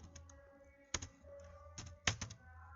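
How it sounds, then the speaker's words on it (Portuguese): Numbers are typed on a computer keyboard in a few quick clusters of sharp, close plastic key clicks with short pauses between them, alone without speech. "Agora eu vou digitar 100"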